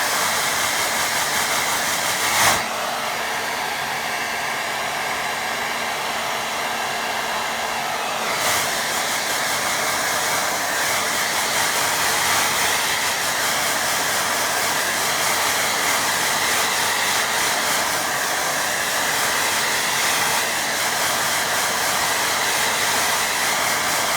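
A hair dryer blows steadily on a watercolour painting, giving a continuous close whooshing hum throughout, with two brief bumps early on.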